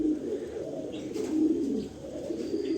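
Pigeons cooing nearby, soft low throaty coos rolling continuously with slight rises and dips, with no talking.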